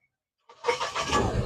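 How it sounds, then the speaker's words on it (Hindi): A Mahindra Bolero BS6 pickup's diesel engine cranks and catches after a silent moment, settling into a steady, close idle rumble. "तो गाड़ी को स्टार्ट करवाते हैं। करो गाड़ी को स्टार्ट।"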